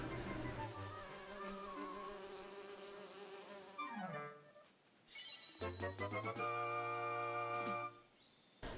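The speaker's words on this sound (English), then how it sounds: "Are you gonna poke a beehive?" Buzzing swarm of bees from a poked beehive in the Link's Awakening video game, a steady insect drone over game music that breaks off midway, then returns louder with bright chiming tones.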